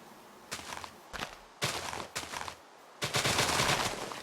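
Blocky, percussive bursts of tree chopping in TerraFirmaCraft, a Minecraft survival mod, coming in several short rapid clusters separated by brief gaps.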